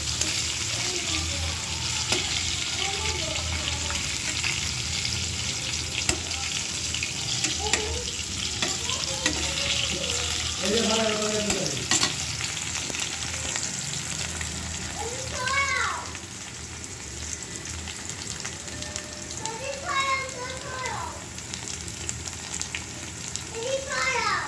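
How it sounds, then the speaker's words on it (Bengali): Potatoes frying in hot oil until reddish-brown, prepared for a meat curry: a steady, hissing sizzle runs throughout, with stirring scrapes and a voice talking intermittently over it. "এখানে আলু ভেজে নিতেছি লাল লাল করে।"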